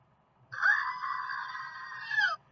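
A screaming goat sound effect plays as one long, loud, strained bleating scream lasting about two seconds, rising at the start and cracking at the end, heard alone against near silence.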